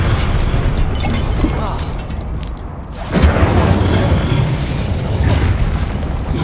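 In the video game Hogwarts Legacy, an Incendio fire spell goes off as a deep rumbling burst, and the roar swells and holds after a brief lull amid busy combat noise.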